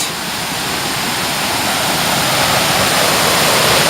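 A small stream runs behind a bench in a Welsh nature reserve, a loud, steady broadband rush of flowing water that stays constant with no voices.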